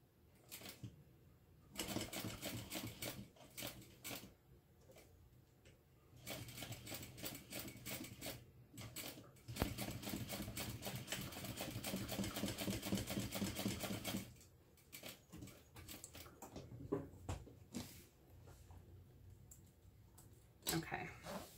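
A sewing machine stitches down the fold of a strap end in repeated bursts of rapid mechanical clatter, separated by brief pauses, with quiet speech between the runs.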